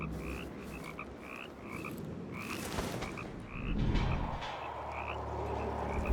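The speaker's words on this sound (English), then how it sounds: "The sound of those chirping frogs is kind of creepy." Frogs croak and chirp in a repeating chorus in the video game Dishonored 2, over a low ambient rumble, with a deeper swell of noise partway through.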